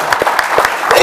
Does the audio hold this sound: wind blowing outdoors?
no